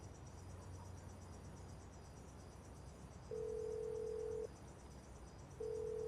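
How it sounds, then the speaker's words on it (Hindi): A phone rings unanswered: long, steady ringback tones repeat with a pause between them, over a faint, constant hiss of background noise. "फारूक तो नहीं उठा रहा फोन"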